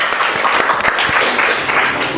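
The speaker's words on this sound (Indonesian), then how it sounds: "Tepuk tangan untuk kelompok 1." Students in a classroom applaud group 1, a brief burst of dense, even clapping from the room, with faint voices mixed in.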